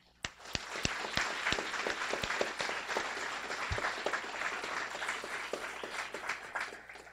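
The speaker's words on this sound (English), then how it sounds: "So I'd like to send a round of applause to you all again." Steady applause from a crowd at a Guiding Eyes for the Blind graduation ceremony, many hands clapping densely and continuously for several seconds, with a few sharp louder claps near the start.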